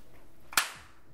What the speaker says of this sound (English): Brad, clap in front of your face.